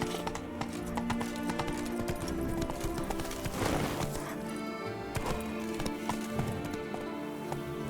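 The horse Roach gallops in The Witcher 3 Wild Hunt GOTY Edition (modded), close rhythmic hoofbeats pounding steadily throughout, with a few sharp knocks mixed in.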